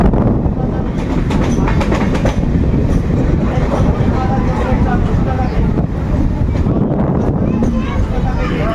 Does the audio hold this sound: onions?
no